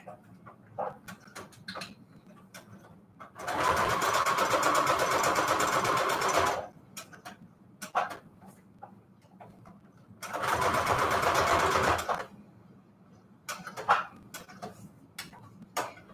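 A sewing machine runs a long straight stitch along a border of a shabby chic bedsheet notecard, in two sustained whirring bursts of about three and two seconds separated by quieter handling clicks.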